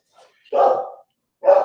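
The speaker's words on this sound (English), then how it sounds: "I apologize for my dogs" Dogs bark indoors, close by: one loud, rough bark, then a second after a short pause, with a faint yip just before the first.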